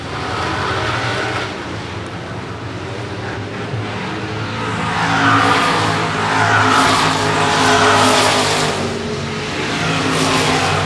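Race cars roar around the oval at Shady Oaks Speedway, engines revving and surging steadily as a pack passes, with a loud continuous drone that swells midway through.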